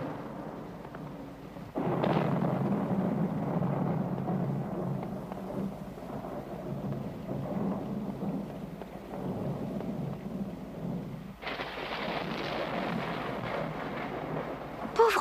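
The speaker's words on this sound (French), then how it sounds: "il doit être effrayé par l'orage." A thunderstorm with a deep, rolling rumble of thunder under steady rain, swelling into a louder, brighter crash of rain and thunder later on.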